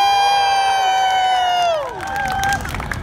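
Street show crowd in Amsterdam claps and cheers in a loud burst, with a whistling tonal sweep over the noise at first, then scattered shouts as the sound dips.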